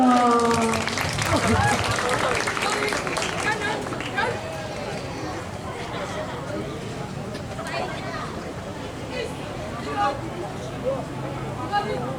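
Audience applause and crowd noise at a flag-raising troop (Paskibra) competition event, sustained clapping and babble filling the space throughout, with people talking and a voice rising over it near the start.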